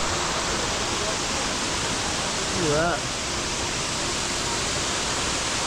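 A waterfall in Bali roars as a steady, dense wash of broadband noise throughout, close and constant, with a voice briefly speaking over it midway.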